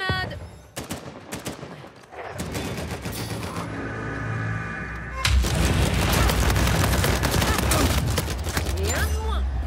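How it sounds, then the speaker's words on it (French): A grenade blast and gunfire in the video game Uncharted 4 during a ranked King of the Hill match, with dense bursts of shots building into a loud, sustained barrage after a booming hit midway. "Je lance une grenade."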